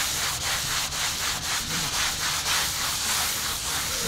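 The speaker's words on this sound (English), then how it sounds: "we get these sanding pads and everything's just got to have a nice light rub over" Hand sanding pads rub lightly over a coated surface between coats, a steady run of about eight rhythmic back-and-forth strokes with a close, loud, hissing scratch.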